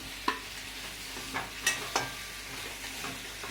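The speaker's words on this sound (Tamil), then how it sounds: "இப்போ இந்த வறுத்து வச்சுட்டு வெண்டைக்காய் இதில் போட்டு வதக்க போகிறோம்." Okra (ladies' finger) stir-fried in a pan with turmeric and salt for a South Indian veg thali, heard as a quiet low sizzle broken by a few sharp spatula scrapes and clinks against the pan.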